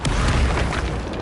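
Booming explosion from the Confringo fire spell in the Hogwarts Legacy video game, a loud, dense blast that fills the whole moment and rumbles on without pause.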